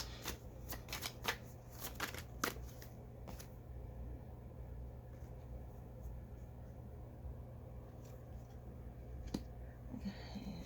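Tarot cards shuffled and riffled close by, a burst of crisp flutters early on, then a few scattered slaps and snaps over a steady low background hum.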